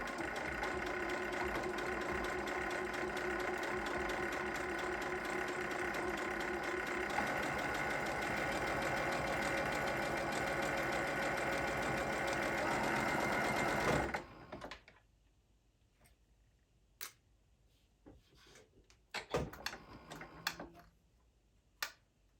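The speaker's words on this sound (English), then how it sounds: "you're going to be sewing through very many thicknesses" A sewing machine stitching slowly through many thick layers of a zipper pouch, running steadily with a rapid mechanical ticking for about fourteen seconds, then stopping, followed by faint sparse clicks and handling noises.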